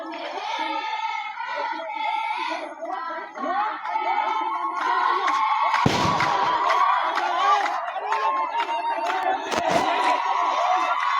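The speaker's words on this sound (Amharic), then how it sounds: "እንግዲህ በደስታ እየተኮሱ ይገኛሉ ገበሬዎች ክላሽ።" Farmers fire Kalashnikov rifles in celebration, two sharp cracks bursting out over a loud, continuous crowd of shouting and cheering voices.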